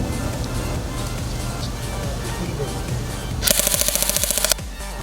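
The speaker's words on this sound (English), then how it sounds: "Let's shoot it now." GFAP13 electric airsoft pistol firing at about 200 FPS: a quick string of roughly a dozen sharp, evenly spaced snapping shots over a steady background hum, ending abruptly.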